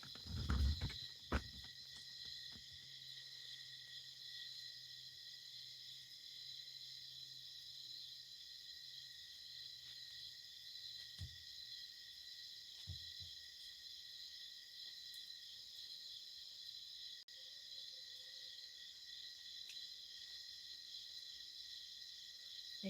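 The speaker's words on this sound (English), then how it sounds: "the sound of crickets in the morning, a nice wake-up call" Crickets chirping in the morning, a faint, steady high-pitched trill that continues throughout with a few soft thumps near the start.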